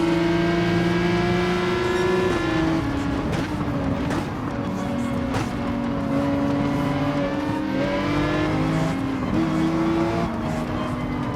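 A Porsche 911 in the Gran Turismo 7 racing game accelerates through turns, its engine whining loud and steady with pitch stepping up and down through gear changes, while a voice talks over it.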